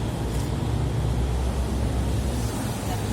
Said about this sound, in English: it's a special exhaust, special sound for the motor